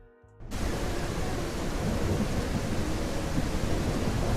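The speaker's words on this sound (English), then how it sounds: "But I like it because it's got really good thunderstorms." A thunderstorm effect from an Unreal Engine 5 weather plugin kicks in suddenly as a loud, steady roar of rain and rumbling noise that holds unbroken to the end.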